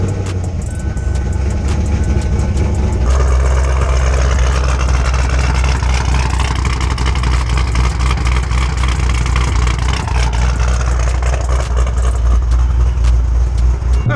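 A Chevrolet Camaro with freshly installed 3.91 gears starts up and settles into a loud, steady, rumbling idle, recorded close to the car.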